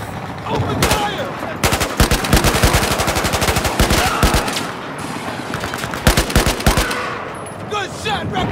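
Gunfire in the Battlefield 4 campaign at Suez: dense, loud bursts of automatic rifle and machine-gun fire in rapid volleys, with brief pauses and shouted voices in between.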